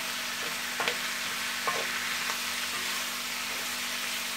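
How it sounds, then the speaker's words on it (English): Italian sausage fries in a wok with a steady close sizzle, broken by a few soft clinks and scrapes as it is stirred. "To give this a little bit of stir, and I like this wok"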